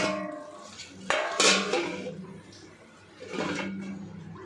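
A metal lid clatters onto a pot of spicy red meat curry, with a few close clanks and a ringing clink followed by softer rattles.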